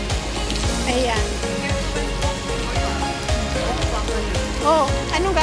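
Rain falls outdoors on Sentosa, a continuous patter of drops on surfaces heard close throughout while people talk over it.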